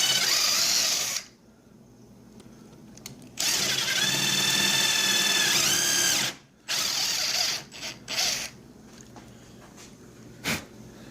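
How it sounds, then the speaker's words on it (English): A power drill drives a screw through a chair rung deep into the leg, a close, loud whirring burst that starts, stops and revs again in short bursts, with no talking. "It will go in through the rung and deep into the leg, and put a screw into it to hold it all together."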